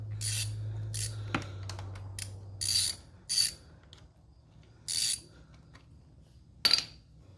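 A ratchet with a 5/16 socket works the drain bolts on a CF Moto CForce 600 ATV during an oil change, giving short separate clicking bursts over a quiet background.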